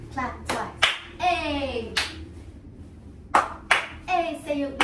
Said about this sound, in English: clap once, clap twice